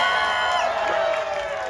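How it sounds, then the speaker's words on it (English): An audience at a music festival grand finale in Highland Park bursts into brief, loud cheering and clapping, a dense wash of crowd noise lasting under two seconds. "that deserves an applause"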